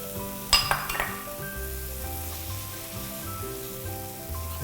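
Spinach and cream being stir-fried in a pan for a spinach and cheese pie, with a steady soft sizzle under a few early clinks of a utensil against the pan.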